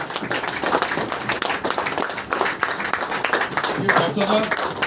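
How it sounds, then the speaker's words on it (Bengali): Audience clapping at a crowd programme event, dense continuous applause with voices mixed in underneath. "So হাততালি চলতে থাকুক স্যার প্লিজ।"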